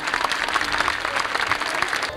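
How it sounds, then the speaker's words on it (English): An outdoor theme-park crowd claps for a stuntman at the Miami Vice action stunt show at Universal Studios Hollywood, producing dense, loud, continuous applause that carries on evenly to the end. "how about a nice round of applause for our stuntman"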